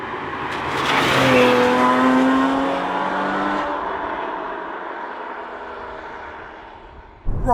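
A Porsche Cayman engine revs loudly, its pitch climbing and falling in a sustained sweep, then the roar fades away as the car pulls off, with no talking over it.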